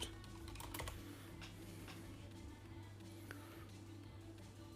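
Steady typing on a computer keyboard, close and quiet, with a rapid irregular run of key clicks and a low hum beneath.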